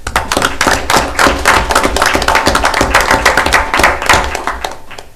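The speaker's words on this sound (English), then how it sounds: "I think they need a big round of applause and great appreciation" Applause at a council meeting, with a room full of people clapping steadily and densely for several seconds before it begins to thin out at the end.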